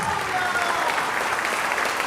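A church congregation claps together during a worship service, with dense, steady applause that holds at an even level from start to finish.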